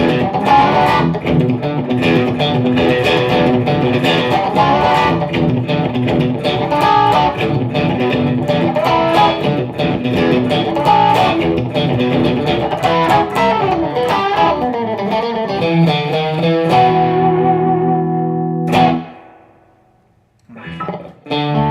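Funky electric guitar played through a pedalboard of effects, steady rhythmic strummed chords and muted scratches for most of the passage, then a sustained chord that drops away into a few last scattered notes.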